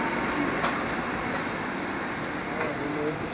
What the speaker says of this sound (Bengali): কি ছোট ট্রেন।